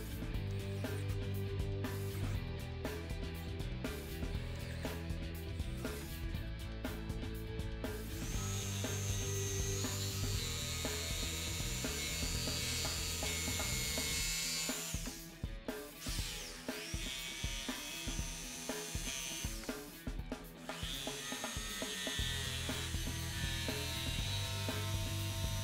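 A jigsaw buzzing steadily through plastic, cutting a headlight opening in a Club Car DS golf cart body, its harsh rapid rasp running continuously with brief shifts in pitch as the blade works through the material.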